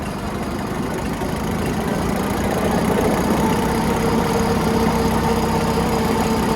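An upgraded tractor engine runs at a steady, loud, close idle, a constant rumbling drone with slight vibration throughout and no clear rise in revs.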